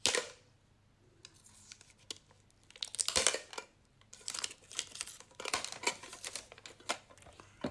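A Pokémon mini tin is unwrapped, its plastic packaging crinkling and tearing in close, irregular bursts, faint at first and busier in the second half.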